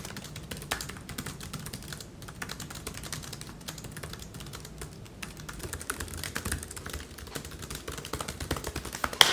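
Someone types steadily on a computer keyboard at a writing session, a quiet, continuous patter of key taps with small irregular bursts, close by and without speech.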